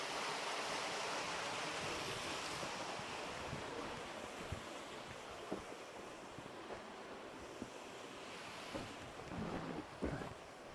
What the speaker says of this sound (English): The water's running over the face of it.